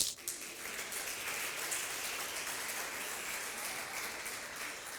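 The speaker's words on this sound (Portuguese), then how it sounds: "Uma salva de palmas para as mulheres." A church congregation gives a round of applause for the women during an Easter sermon, soft distant clapping that sounds like a steady patter of rain throughout.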